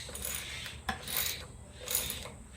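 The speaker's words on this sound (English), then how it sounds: "Now it's time to loosen these clamps up there." A hex Allen key turns and loosens the fork clamp bolts on a Suzuki DR650 motorcycle. Two soft scraping, ratcheting strokes sound up close and fairly quiet.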